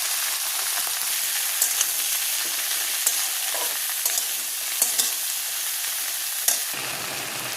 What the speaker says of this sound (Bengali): পাঁচ ফোড়ন ফোড়নে দেবো। ফোড়নটা একটু হয়ে যাবে,